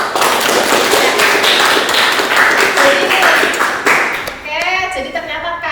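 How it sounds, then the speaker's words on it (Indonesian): Classroom applause for two classmates, a burst of quick close claps from a group that stops near the end, after which a voice speaks. "Tepuk tangan untuk dua teman kita."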